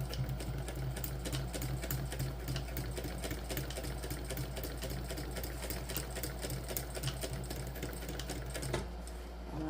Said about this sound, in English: You just want to sew those individually as a top stitch.